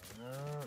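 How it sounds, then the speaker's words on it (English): A single short, low moo comes from a cow in the video game LEGO Fortnite, soft and alone. "Pet the cow. Bro, I love this cow."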